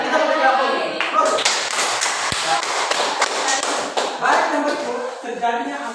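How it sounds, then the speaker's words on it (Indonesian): Applause in a classroom, a short burst of hand clapping from a group that rises and then tapers off, with a teacher's voice speaking over it. "Kita beri aplaus."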